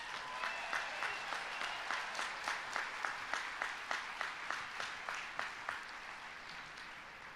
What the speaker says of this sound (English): How about a round of applause to the graduates?